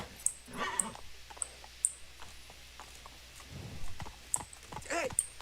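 Hooves of Roach the horse clip-clopping at a run in The Witcher 3, a steady near rhythm of hoof beats with jingling tack and scattered background game sounds.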